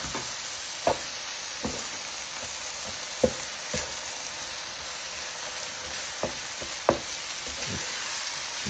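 Beef and cheese sizzle steadily on a hot griddle while a metal spatula chops through them, giving sharp scattered clacks over a constant crackling fry, close and with no talking.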